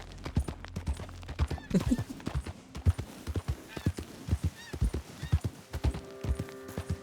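Horse hooves clip-clopping at a brisk, uneven pace in Red Dead Redemption 2, close and distinct, with a brief whinny partway through and no talk.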